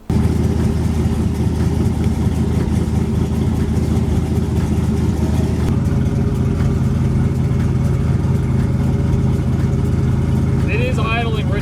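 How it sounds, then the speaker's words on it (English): Car engine idling rich, a steady, loud low rumble close by with a slightly uneven pulse, while a person talks over it. "It is idling rich as shit."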